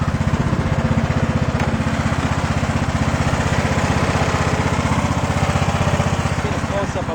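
A Sabre lawn tractor engine runs steadily up close, a loud, even, rapid chugging idle that holds its rhythm throughout, with a voice talking over it.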